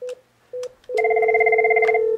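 An office desk phone rings during a call transfer: two short tone bursts, then a longer steady ring with bright overtones, clear and close with no talking.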